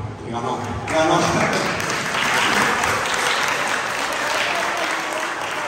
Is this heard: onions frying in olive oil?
no